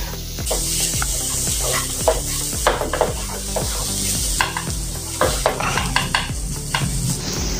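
Ginger, garlic and green chilli paste masala sizzles steadily in a hot pan, with repeated scraping and clinking of a spatula stirring it in a regular rhythm, close and fairly loud, no voices.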